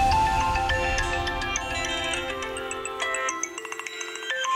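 A phone ringtone plays as an outgoing call is placed in a Hindi television drama, a bright repeating electronic melody that fills the moment alone and stays loud throughout.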